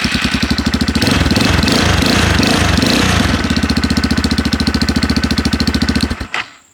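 A Templar M 250cc Chinese dual sport motorcycle engine idles close by with a steady, rapid single-cylinder putter, briefly roughening early on before settling, then cutting off abruptly near the end.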